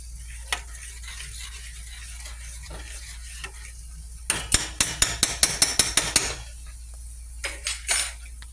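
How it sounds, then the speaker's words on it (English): A spoon stirs grits in a pot on low heat, first as a soft steady scraping, then a run of about a dozen rhythmic sharp scrapes and knocks against the pot, and a couple more near the end. "you gotta keep stirring your grits, and again, that's on low"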